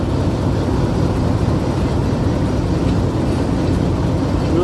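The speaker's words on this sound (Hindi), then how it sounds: "अब ट्रेन स्लो मूव कर रही है गोलरा रेलवे स्टेशन पे।" Hazara Express creeps slowly through Golra railway station in Islamabad, a steady, close, even rumble of rolling carriages with no breaks.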